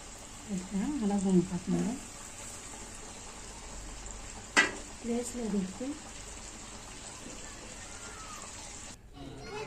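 Coated KFC-style chicken pieces frying in hot oil give a steady, soft sizzling hiss that runs through the whole stretch, with a person talking over it at intervals.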